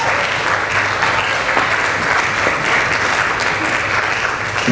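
Sustained, full audience applause fills a school woodwind ensemble's 2023 final concert, honoring the clarinet players with a dense, even wash of clapping from start to finish.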